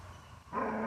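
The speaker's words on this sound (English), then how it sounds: "Like my dog getting angry now" A dog growling and barking in anger, a loud burst starting midway and continuing to the end, close by.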